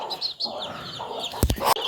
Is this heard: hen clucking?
yes